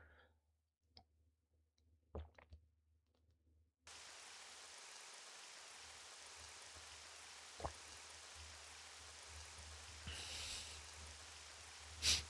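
Steady rain in the racing game Le Mans Ultimate, a constant hiss that starts abruptly after a quiet opening with a few faint clicks, with occasional sharper taps and ticks on top.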